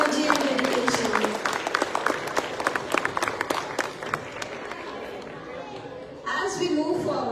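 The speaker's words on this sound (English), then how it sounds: "Let's give them another big round of applause for their amazing energy and dedication." An audience at a Dhamma Chakra Pravartan Din celebration claps for a children's dance performance, with lively applause mixed with crowd chatter and children's voices, easing off before the chatter swells again.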